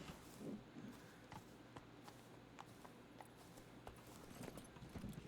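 Roach the horse walks in a video game with hooves clip-clopping at an even rhythm, the hoofbeats fairly quiet over a low ambient background.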